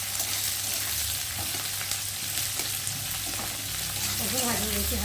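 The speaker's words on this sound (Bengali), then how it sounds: "দিয়ে পেঁয়াজটা একটু ভাজা হতে দেবো।" Sliced onions with green chillies frying in hot oil with cumin in a pan, a close, continuous sizzle with the light scrape of stirring running throughout.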